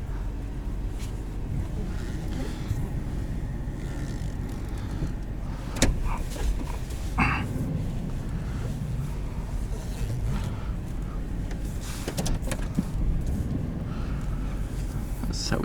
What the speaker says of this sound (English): This is probably the last chance I'll ever get to drive a Mitsubishi Raider.